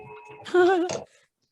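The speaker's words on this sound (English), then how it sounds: "It is kind of an interesting doorbell for sure" A short electronic chime rings out, a few bright tones held for about half a second, then cuts off into quiet.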